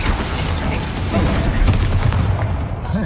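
A Glacius ice spell hits in the Hogwarts Legacy video game, with loud booming, bursting impacts piling onto a thick, steady layer of rumbling combat noise.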